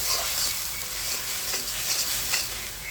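Spice masala of green chilli and red chilli powder fries in hot oil, a dense steady sizzle with stirring scrapes, close and fairly loud with no talking.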